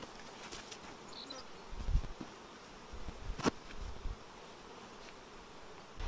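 Honey bees buzz steadily around opened beehive frames, a continuous close hum with occasional louder knocks and handling thumps.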